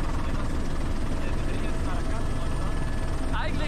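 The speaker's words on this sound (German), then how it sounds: "wenn wir hier aus dem Helikopter springen" A helicopter flies over a bay off an island, its rotor and engine making a loud, continuous, close drone from start to finish.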